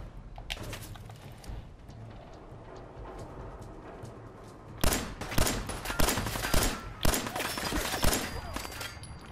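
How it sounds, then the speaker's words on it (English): Gunfire in Fallout 4 on PS4 at the Corvega Assembly Plant, raiders shooting: scattered distant shots at first, then a loud close run of rapid automatic bursts and single cracks in the second half. "Where the hell are all these bullets coming from, man?"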